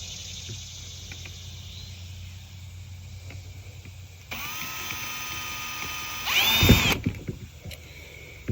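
A power drill whirs at low speed, then spins up into a louder, higher whine for a few seconds before stopping.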